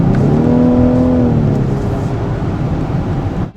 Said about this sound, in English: we've allowed for the first time in a Rolls-Royce a little bit of exhaust note to come into the cabin